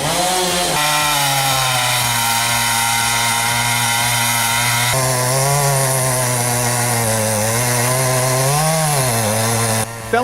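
A Husqvarna 395 XP chainsaw with a 36-inch bar runs loud and steady while felling a dead pine, its engine note holding under load with slight pitch dips as the cut progresses, with no voices.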